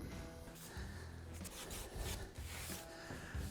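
A wood filler marker is rubbed back and forth into a stair tread, a close, soft scratchy rasp repeating in short strokes throughout.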